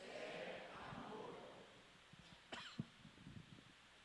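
A single sharp cough from a speaker at a church camp opening rings out amid soft background noise and faint murmuring, quiet and somewhat distant.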